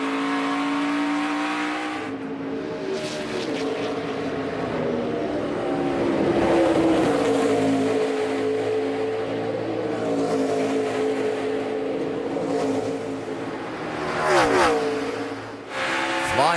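NASCAR Nationwide Series stock cars race at the 2013 Johnsonville Sausage 200 road-course event near Canada corner. Loud engines roar and rev as cars pass close by, with downshifts and surges, and commentary may sit faintly beneath them.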